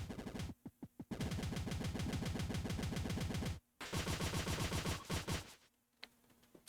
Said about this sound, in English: So if you watch, that's as fast as I can fire.